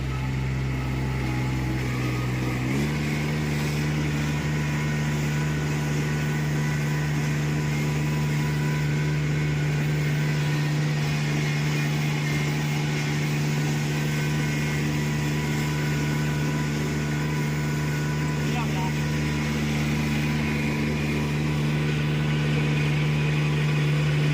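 A Kubota paddy transplanter runs in a rice field with a steady, loud mid-pitched engine drone that shifts slightly in tone after a few seconds and then holds constant, close by with no talking.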